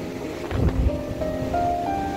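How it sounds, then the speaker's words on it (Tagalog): Strong surf from a typhoon at Nasugbu beach rolls in under wind noise on the microphone, a steady close wash of water with a brief heavier surge. "ang lakas pa man ng alon"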